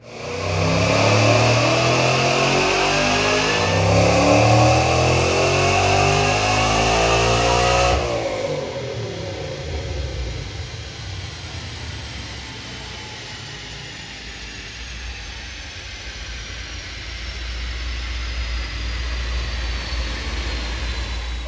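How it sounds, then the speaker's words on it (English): Supercharged 2012 Mustang GT with a Roush TVS 2.3 blower roaring loudly through a full-throttle dyno pull, engine pitch climbing steadily for about eight seconds, then dropping off into a lower, coasting drone. "Let's check out a dyno pull."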